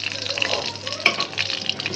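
Pointed gourd (potol) fries in hot oil, giving a close, steady, crackling sizzle with small pops and one brighter spit.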